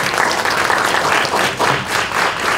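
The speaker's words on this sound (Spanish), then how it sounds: "Un aplauso para este equipo." An audience at a presentation event breaks into sustained applause, a dense and steady wash of clapping from many hands throughout.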